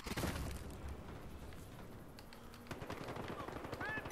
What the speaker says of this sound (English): this is not a very good long-range assault rifle. Gotcha. It is the FAMAS. Very high fire rate, very high damage.